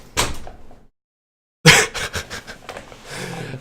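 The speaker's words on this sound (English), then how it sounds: "He knows how to open doors now" A pet opens a door indoors: a short scrape and knock, a pause of silence, then a sharper bang followed by rattling and shuffling movement, close and fairly loud.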